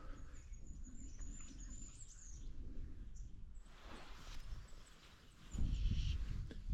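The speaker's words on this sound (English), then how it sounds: "pigeon wars in the tree" Pigeons squabble in a tree beside a UK trout fishing lake, flapping and scuffling with rustling patters that swell into a louder burst of wing flutter near the end, with no talk.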